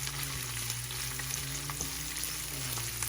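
Bottle gourd and carrots sauté with pork in a pan, giving a steady, close sizzle with small crackles and faint stirring scrapes throughout.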